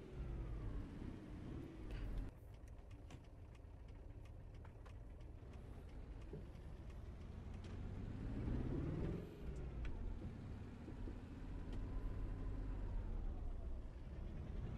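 Truck engine idling and running in Euro Truck Simulator 2 with the ProMods map, a steady low rumble that swells and shifts pitch around the middle with some road traffic noise, no talk.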